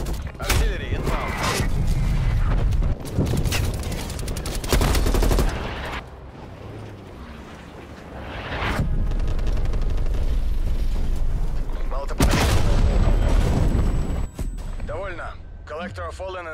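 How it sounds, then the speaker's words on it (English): Artillery strike in the Call of Duty: Black Ops Cold War multiplayer beta: repeated loud explosions and gunfire crash in bursts over a busy battlefield, with radio voice callouts and speech between the blasts. "Artillery inbound."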